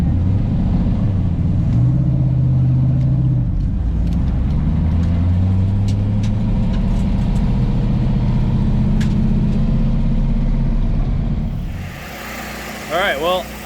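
A turbocharged LS-swapped Mazda RX-7 on a drag strip holds a loud, steady engine drone for most of the clip, with the clutch slipping in fourth gear, before it drops off abruptly near the end.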